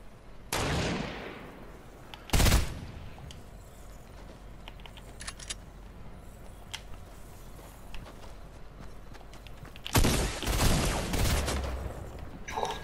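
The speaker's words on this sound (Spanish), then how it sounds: "Está disparando a otro" Gunfire in the video game Fortnite, with sharp shot bursts at the start and a denser volley near the end, separated by a quieter stretch of faint clicks and footsteps.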